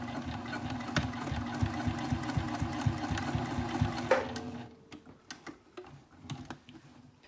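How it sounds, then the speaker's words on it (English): Sewing machine stitching backpack fabric, a rapid ticking run of needle strokes for about four seconds, then stopping with a few scattered clicks and handling noises. "I'm going to sew just above the cut slit on this wrong side."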